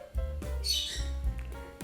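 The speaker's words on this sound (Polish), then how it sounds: "Jestem skazany dzisiaj na nagrywanie wśród papug." Parrots squawk loudly nearby in a room, one harsh call swelling in the middle amid lower chattering bird noises, with no speech.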